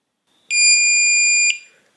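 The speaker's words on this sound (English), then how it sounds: "So once you hear that long beep" A single loud, high-pitched electronic beep from a Kwikset SmartCode 260 smart lock during reset holds steadily for about one second, then stops, in an otherwise silent background.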